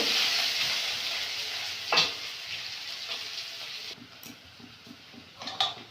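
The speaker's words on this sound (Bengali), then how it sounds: "পেঁয়াজটা ভাজা ভাজা করে নেব।" Onions frying in oil in a wok make a soft, continuous sizzle, fairly quiet, with occasional scrapes of stirring and a few light ticks as it fades toward the end.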